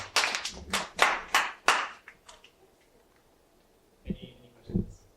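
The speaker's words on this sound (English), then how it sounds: "You can guys can clap." An audience applauds at the close of a workshop talk on English Bible translations, a quick series of loud, sharp claps for about two seconds that fades out, followed by faint voices and small sounds.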